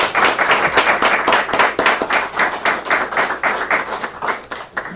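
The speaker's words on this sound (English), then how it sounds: "how about another round of applause for each of them" Close, loud applause from an audience at a city of Akron ceremony honouring three citizen rescuers, dense rapid hand claps in a steady wash that runs throughout without talk.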